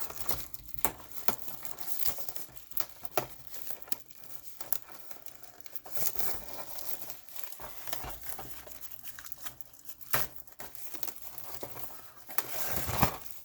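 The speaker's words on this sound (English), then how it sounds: "So let's unwrap this" Plastic and cardboard packaging crinkles, tears and crumples up close while a Necromunda Escher Cutters miniatures box is unwrapped, with irregular bursts of rustling and a louder rip near the end, no talking.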